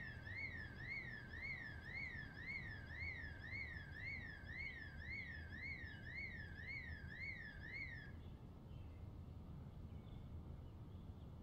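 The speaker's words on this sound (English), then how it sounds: "you definitely want to run as soon as you hear a house alarm going off" A house alarm blares in the game Project Zomboid, a loud warbling siren sweeping up and down in steady rapid cycles for about eight seconds before cutting off, leaving a low background rumble.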